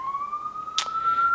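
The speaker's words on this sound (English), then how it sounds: "That was an ambulance. I thought it was a police." An ambulance siren outside, heard as a steady wailing tone that holds throughout at moderate distance, briefly broken by a short sharp click.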